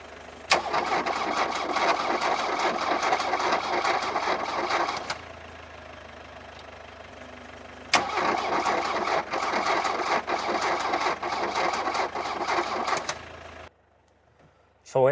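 A Volkswagen Golf Mk1, left sitting for years with a worn-out battery, cranks in two long attempts separated by a pause, the starter whirring loudly and steadily each time without the engine catching.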